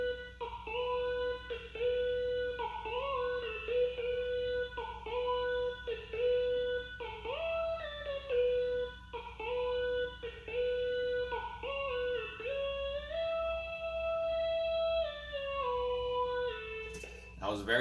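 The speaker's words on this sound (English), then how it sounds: "It was this serum lead." A Serum synthesizer lead from a laid-back groove beat plays a bright, sustained melodic line with gliding notes over a steady low drone, loud and close, with no voices.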